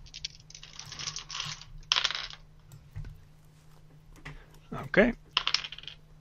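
Dice clatter across a table during a tabletop role-playing session, rattling in a couple of bright bursts that are close and clear, with a brief spoken word between them.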